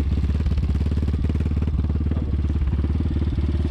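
A 2022 Apollo RXF 150 dirt bike (150RXF-E) idles steadily up close, its single engine putting out a loud, rapid, even chugging throughout, with a brief vocal grunt.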